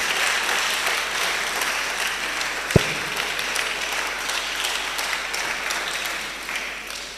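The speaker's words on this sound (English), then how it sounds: "A round of applause for all of us." A steady wash of audience applause at a public speaking competition semi-final, continuous and fairly even for several seconds, with one sharp knock partway through and no talking over it.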